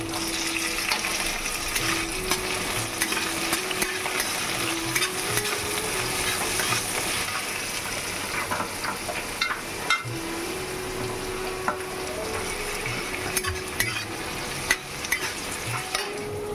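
Chilli and carrot sautéing in a pan, a steady close sizzle and frying hiss with occasional stirring scrapes, continuous throughout with no talking.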